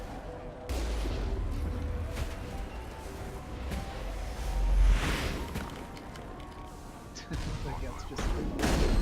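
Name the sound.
gunfire in the video game Mass Effect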